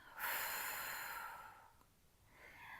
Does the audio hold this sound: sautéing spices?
no